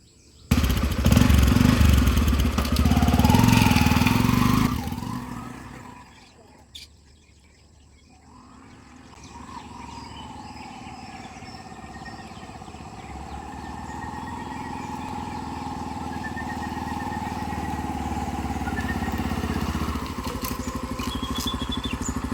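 A loud engine runs close for a few seconds, then fades away and settles into a distant steady drone with faint chirps in the background.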